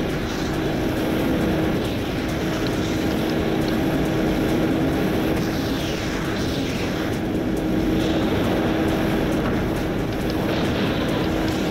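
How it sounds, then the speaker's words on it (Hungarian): Sustained aircraft engine drone of helicopters chasing the player in the Just Cause video game, a loud steady rotor and engine roar with a constant tone running throughout, no speech. "A helikopterek igen kitartóan jönnek utána."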